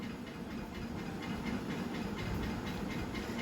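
A covered pot of vegetarian potol, potato and soybean curry with ground peanut paste simmers on the stove, giving off a steady, close, even hiss of bubbling and steam with no talk.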